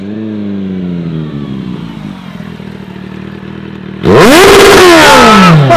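A Kawasaki Z750 motorcycle engine idles with a low rumble, then suddenly roars into loud, rising revs close by.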